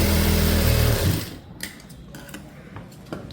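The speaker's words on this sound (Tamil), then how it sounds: "இப்போ ஒரு தையல் போட்டுடலாம்" A sewing machine stitching a blouse sleeve whirs loudly and steadily for about a second, then stops, leaving faint clicks and small handling taps.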